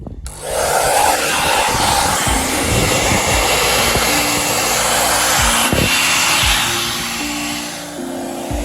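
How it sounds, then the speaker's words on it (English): A heat gun blows hot air over vinyl tint film stretched across the lights of a 2009 Ford Fiesta Zetec, a steady, loud whooshing drone that runs without a break for about eight seconds. "now we're gonna use the heat gun / hairdryer to actually get it stretched and heated"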